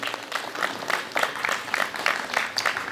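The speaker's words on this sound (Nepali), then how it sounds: "हामी सबैजना सबैको लागि जोरदार ताली बजाइकिन स्वागत गर्नेछौँ" An audience at a church carol night claps steadily through the whole stretch, a dense, lively round of applause from a fairly small crowd.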